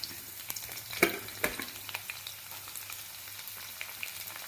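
Sliced onions for an okra stew sizzle quietly in hot oil, a soft steady crackle with a few sharper clicks and taps from stirring near the start, no voices present.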